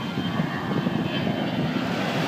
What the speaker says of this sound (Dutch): Af en toe een vliegtuigje wat langskomt.